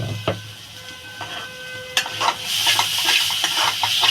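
Masala for prawn malai curry sizzles and fries in a pan while a utensil stirs it with scraping, knocking strokes, close and fairly loud, with no talking.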